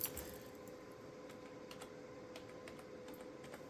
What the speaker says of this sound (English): let's just type in here